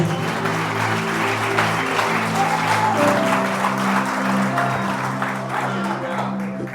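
A church congregation applauds during a Portuguese-language sermon, a steady wash of clapping and crowd noise lasting throughout, with sustained voices or music humming underneath.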